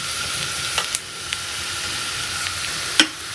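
Garlic and cumin frying in hot oil give a steady, close sizzle with a few sharp pops and crackles scattered through it, and no voices are heard.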